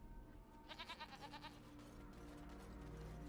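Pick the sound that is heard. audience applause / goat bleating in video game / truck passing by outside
goat bleating in video game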